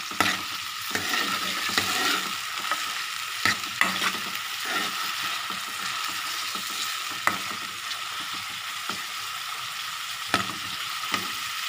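Steady sizzle of garlic paste frying in a pan, with intermittent scraping and clinks of a spoon stirring throughout.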